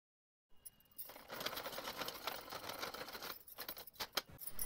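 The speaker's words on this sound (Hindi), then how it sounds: "पहले हमें इस तरीके से इसे फोल्ड करके यहाँ पर सिलाई लगाएंगे एक साइड से" A sewing machine runs in a fast, soft, rattling patter while stitching a folded sleeve cuff, starting after a brief silence and continuing at low volume.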